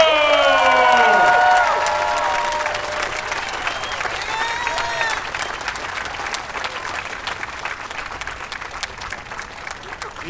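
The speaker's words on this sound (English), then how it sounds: "Let's hear it for Chile's Manuel Angulo!" At a World's Strongest Man award ceremony, an audience applauds and cheers, loud at first and then slowly thinning out, with a voice over the crowd at the start.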